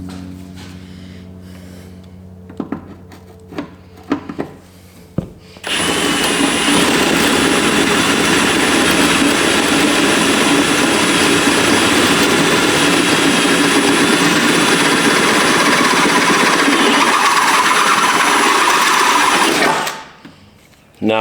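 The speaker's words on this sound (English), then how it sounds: "you are drilling down onto the supercharger lid" Power drill boring out holes in a car cowl above a 5th-gen LSA supercharger lid, a steady loud whine running about fourteen seconds after a few brief clanks and handling knocks, then stopping abruptly.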